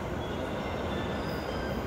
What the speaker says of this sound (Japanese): まもなく3番乗り場に下り列車が参ります。